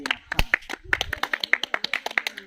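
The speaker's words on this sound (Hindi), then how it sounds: "बहुत धन्यवाद, तालियां बजाओ रे।" A small group of people claps after a village girl sings at a grandmother's terahvi gathering in Uttarakhand: a few scattered claps, then a quick, close, rhythmic run of handclaps.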